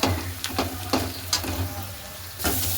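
Onions fry in a pan of oil for a meat dish, giving a soft steady sizzle with a few clinks of stirring over a low background hum.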